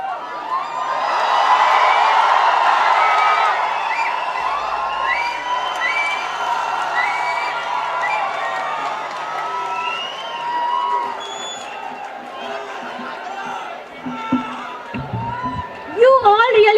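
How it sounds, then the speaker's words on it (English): A college fest crowd in a hall cheers, whoops and claps after a dance performance, loud at first and fading into scattered shouts and chatter, with voices speaking over the tail. "A big round of applause for them."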